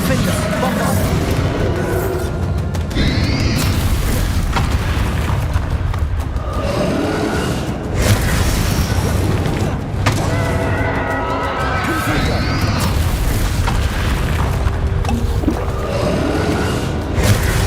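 Bombarda spell blasts in Hogwarts Legacy: heavy booms and crashing impacts layered into loud, continuous combat sound with voices throughout.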